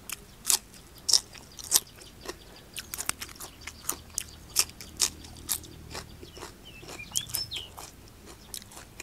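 Crunchy chewing and biting of pounded Thai-Lao style oyster salad with sweet acacia shoots, close up in a steady rhythm of sharp crisp bites, with faint birdsong in the background and no talk.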